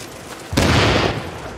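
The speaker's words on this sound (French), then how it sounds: "Là, j'envoie une grenade dessus." A grenade goes off in The Division, a sudden loud blast that rolls into a sustained broadband rumble and tails off over about half a second, with no talk.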